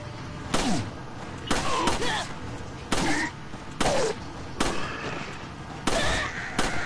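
Gunfire in the Resident Evil 4 video game: about seven sharp, loud shots spaced roughly a second apart, each a sudden crack with brief game sounds trailing between them.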